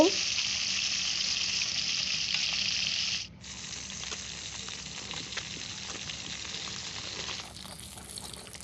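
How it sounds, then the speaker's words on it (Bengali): Small dumku fish fry in hot oil with a loud, steady sizzling hiss. It briefly dips around the middle, then continues slightly quieter to the end. "এই তো তেলের মধ্যে দিয়ে দিলাম আমি ডুমকু মাছ"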